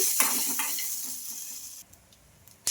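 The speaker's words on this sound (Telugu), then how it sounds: "ఇంకా ఈ మిర్చితో పాటు పల్లీలు కూడా బాగా ఫ్రై చేసుకోవాలి" Red chillies and peanuts sizzle steadily in hot oil in a pan, with a brief stirring clatter; the frying fades quieter midway, then a sharp clink of a utensil closes it.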